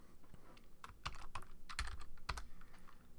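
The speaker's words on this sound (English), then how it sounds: "we're going to be typing in happy on this." Keys clacking on a computer keyboard while a word is entered into a Photoshop Elements document, a quick burst of close, crisp taps with a few louder strokes and no talking.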